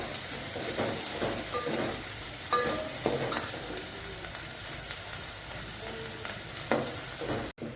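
A paste of onion, coriander and coconut powder fries for chicken curry, giving a soft steady sizzle broken by scraping stirs and a few clinks of the spoon, with a sharp knock at the end.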